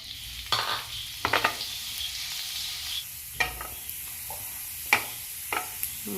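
Onions fry in oil in a pan for coconut rice, a soft continuous sizzle broken by several sharp scraping clacks of a utensil stirring, close and moderately loud.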